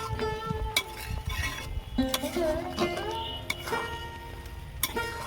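Metal spoon clinking and scraping against a pan while raw mango pickle with spices is stirred, a run of sharp close taps and scrapes with faint sizzling underneath.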